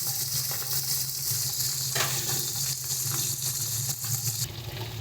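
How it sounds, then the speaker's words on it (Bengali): Rohu fish pieces sizzle in hot oil in a pan as they are turned over to fry the second side: a close, continuous crackling hiss with small bursts, and no one speaking. "আর একটা পিঠ আমরা উল্টে ভেজে নিচ্ছি"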